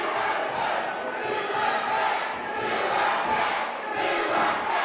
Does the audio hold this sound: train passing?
no